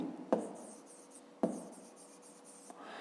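Pen or pencil writing numbers by hand on paper, with a couple of sharp taps and soft scratching strokes, close and quiet with no talking.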